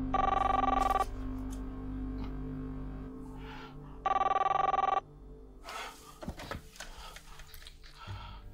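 A telephone rings indoors in two loud electronic bursts about three seconds apart, followed by softer handling clatter and rustling.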